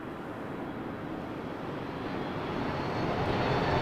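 A WestJet Boeing 737 Max 8 arriving from Nashville at Toronto Pearson, its broad jet roar steady and building slightly louder toward the end, heard alone without voices.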